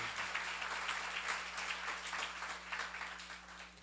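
Audience clapping at a church seminar, a moderate, steady patter of many hands from a room of listeners, fairly distant and soft, continuing throughout with a low hum underneath.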